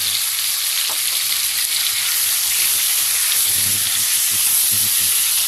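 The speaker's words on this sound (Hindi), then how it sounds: "2 टेबल स्पून हम जिंजर गार्लिक पेस्ट डाल देंगे इसमें।" Ginger garlic paste sizzles and fries steadily in a hot pan for a dhaba-style chicken capsicum gravy, a continuous loud hiss with faint stirring scrapes underneath.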